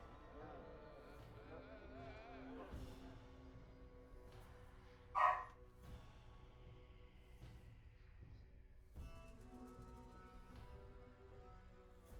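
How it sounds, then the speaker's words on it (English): A dog barks once in Pathfinder: Wrath of the Righteous, a single short, sharp bark in the middle of the clip over quiet game music and ambient sounds. "Why is she barking?"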